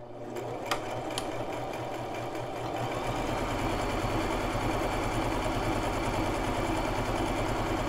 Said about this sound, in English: I'm going to sew a couple of stitches, backstitch a couple of stitches, and then sew my seam and then end it